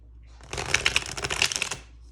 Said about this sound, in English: I'm gonna see how this baby shuffles.